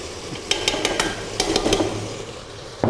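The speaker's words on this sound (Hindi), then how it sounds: "इन्हें अच्छे से मिक्स कर लेंगे और थोड़ी देर भून लेंगे, 1 मिनट।" Ginger garlic paste and spices stirred and fried in a pot for a restaurant-style beef biryani. A spoon knocks sharply against the pot several times in uneven clusters while a soft sizzle runs beneath, close and alone without talk.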